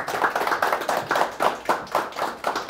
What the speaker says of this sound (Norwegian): En stor applaus.